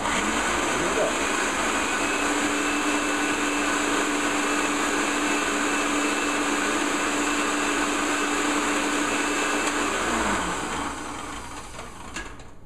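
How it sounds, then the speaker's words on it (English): An electric blender whirring through avocado chocolate mousse, a loud steady motor drone with a constant whine held for about ten seconds, then winding down and fading as it shuts off. "I just prefer to use a blender"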